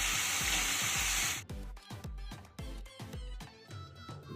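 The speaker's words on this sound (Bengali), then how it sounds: "এই পর্যায়ে আমি দিয়ে দেব কেটে আর ধুয়ে রাখা পেঁয়াজগুলি।" Sliced, washed onions hit hot oil in a pan for a tengra fish curry, giving a loud hissing sizzle close by. The hiss then breaks into a run of rhythmic scraping, clattering spatula strokes as the onions are stirred.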